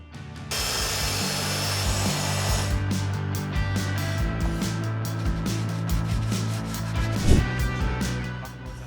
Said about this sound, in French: Nous allons maintenant la redresser à l'aide de la scie sauteuse